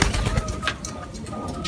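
Racing pigeon cooing at a derby loft, soft low cooing calls close by over a murmur of background noise.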